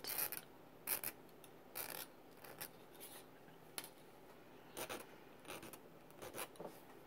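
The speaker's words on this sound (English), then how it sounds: "File the other end." Small hand file rasping across the cut end of a thin metal piece for a charm, a dozen short quick strokes in uneven bursts, close and soft, no talking.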